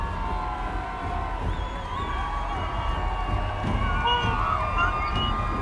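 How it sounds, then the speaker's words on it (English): A fantasy crowd of bird folk cheers at the annual Cloud Race, a dense, steady roar of many voices with high whoops and screams rising over it throughout, mixed like a sound effect. "as you hear screams, roars from different Aracocras and different bird folk as they now ready themselves to watch the race"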